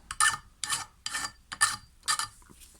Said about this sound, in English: I take a little chainsaw file, a little flat file, and I'll just blunt off